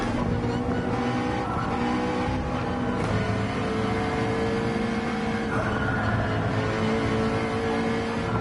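Race car engines roar steadily in Gran Turismo 7 at Laguna Seca, a continuous dense drone of several cars with shifting pitch and faint tire noise, loud and with no talk over it.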